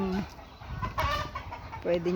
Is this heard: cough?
no